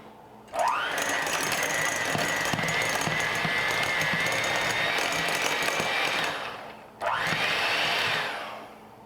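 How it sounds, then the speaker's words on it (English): A handheld electric mixer beats butter in a large mixing bowl, running loud and steady for about six seconds, stopping briefly, then whirring again before winding down. "use an electric mixer, handheld mixer, to beat it until it's soft and smooth"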